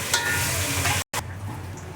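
Tomatoes sautéing in a pan for mutton curry give a steady sizzle with stirring scrapes, cut by a brief silent gap before the frying resumes, slightly quieter.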